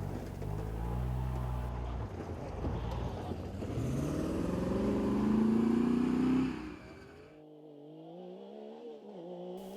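A Lamborghini racing car on a hillclimb course, its engine rising and changing pitch as it accelerates hard, then fading away and settling into a lower, more distant drone.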